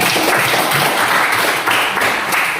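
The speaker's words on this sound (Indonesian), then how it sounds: "Beri tepuk tangan." A burst of steady applause from students clapping together in a classroom, continuous and fairly loud throughout.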